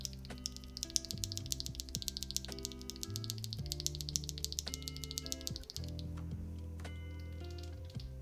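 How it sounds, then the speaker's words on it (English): Rapid, crisp clicking of keyboard switches, close and continuous, over quiet background music. "KeyGeek LM switches. Listen to this."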